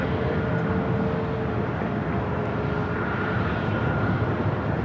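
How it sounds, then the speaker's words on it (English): Turkish Airlines Boeing 777 rolling along a runway at Los Angeles airport, a steady broadband engine rumble with a faint whine, moderately loud and continuous, no talk. "777 rolling down to 5 right"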